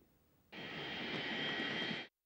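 A presidential aircraft carrying Burkina Faso's president arrives in Niamey, its engine roar cutting in abruptly as a loud, steady broadband rush that holds for about a second and a half before stopping dead.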